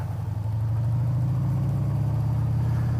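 A motorcycle on street tires runs on a beach with a steady, droning mid-pitched engine note held at a constant pace, close and fairly loud, with no talking.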